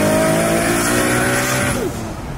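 A Lamborghini SVJ engine revs loudly close by, a raspy, high-pitched roar whose pitch drops near the end, heard alone with no one talking.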